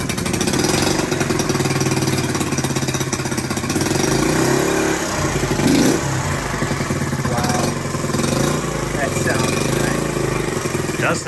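A freshly built Honda Trail 70 motorcycle runs at a bike show, its small engine chattering loudly and steadily throughout with a rapid, hammering pulse, while voices are faintly present underneath.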